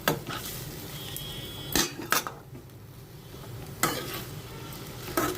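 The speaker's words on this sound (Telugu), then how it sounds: "ఇట్లా వేపుకుంటూ ఉండాలి కొంతసేపు" Curry stir-fried in a pan to cook off its water, with a constant sizzle under repeated scraping strokes of a spatula against the pan, close and fairly loud, no voices.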